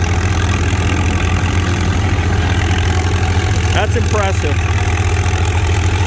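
Antique 50-horsepower tractor engine pulling a heavy frame plow at a plow day, a loud steady low engine drone throughout, with a person speaking briefly over it.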